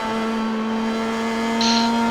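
A Star Mazda race car in the iRacing game holds a steady, droning engine note at Zolder, the sustained buzzing tone staying even and fairly loud with a faint hiss rising near the end.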